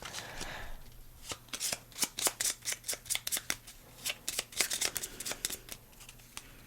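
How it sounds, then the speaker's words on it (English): Playing cards for the Western Legends board game are riffle-shuffled, a quick series of sharp, crisp flutters and snaps repeating in bursts, close and fairly loud with no voices over them. "I gotta shuffle this back in."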